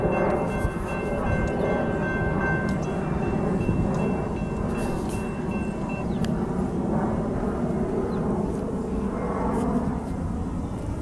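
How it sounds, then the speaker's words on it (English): A train passes close by on a walk toward the city, a loud, steady broadband rumble with a thin high squeal of wheels on rails running through the first half. "The train."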